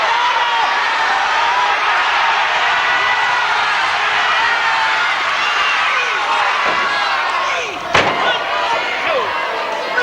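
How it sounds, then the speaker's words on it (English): Excited crowd at a televised wrestling match at the Royal Spa Centre, a steady loud roar of cheering and shouting that continues without break, with a sharp slam-like thud near the end. "it's quite an excited crowd here at our first ever wrestling transmission"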